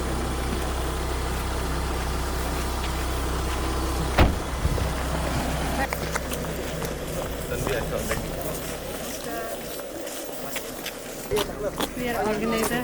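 A stopped vehicle idles with a steady low engine rumble throughout, while people talk over it and a brief knock sounds partway through.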